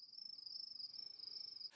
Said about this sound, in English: You will now hear your smart device make a loud chirping noise that sounds like this.